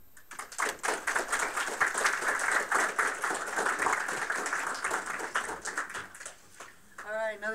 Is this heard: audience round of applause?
yes